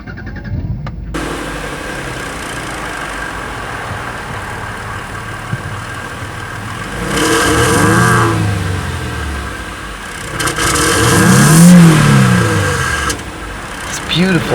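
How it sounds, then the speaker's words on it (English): A 2012 Jaguar XF idles with a steady low exhaust note, then two strong revs swell and fall back, close up and loud with no talking over them. "Now let's get an exhaust clip."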